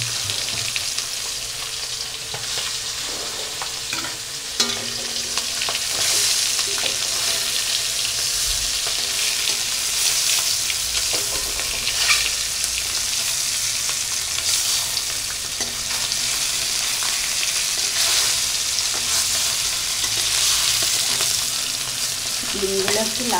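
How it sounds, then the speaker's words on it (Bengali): Eggs fry in oil for a spicy egg curry until lightly reddened, giving a loud, continuous close-up sizzle with occasional stirring scrapes and crackles throughout. "ডিমগুলো একটু লালচে লালচে করে ভেজে নেব।"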